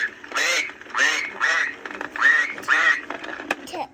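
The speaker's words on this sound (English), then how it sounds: "Let's see what the duck says." A toy or picture book's recorded duck quacks loudly and close, about six raspy quacks in an uneven series with short gaps between them.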